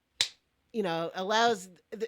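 A single sharp hand clap serves as a sync mark for a multi-device podcast recording, a brief percussive crack followed by voices talking.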